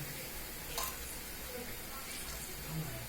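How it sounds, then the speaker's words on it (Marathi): Grated raw mango cooking in a kadhai over a low gas flame, giving a steady soft sizzle with faint stirring scrapes throughout, fairly quiet and continuous. "कैरीचा किसल्याचा किस टाकले जात आहे गॅस मंद आचेवर ते ठेवलेलं आहे"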